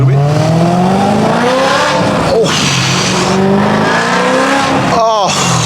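A BMW S65 V8 engine screams through rising revs, gear change after gear change, loud and close, with a voice briefly heard over the roar.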